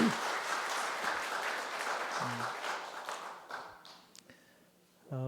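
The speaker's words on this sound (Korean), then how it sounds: "한번 환영의 박수 한번 드리겠습니다." A church congregation applauds to welcome visiting guests at a worship service, a sustained round of clapping that fades out after about four seconds before a voice resumes.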